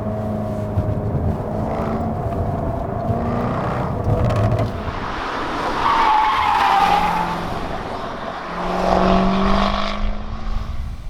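A rumbling V8 car engine revs and drones while tires squeal and skid in long smeared swells, loud and close throughout.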